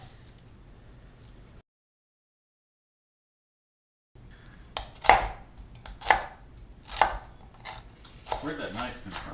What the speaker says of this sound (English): So we'll chop that up.